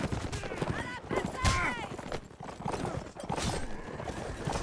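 Horse hooves clatter through a video game line battle, with irregular clip-clop beats mixed with scattered gunshots and a neigh, while players talk over the noise throughout.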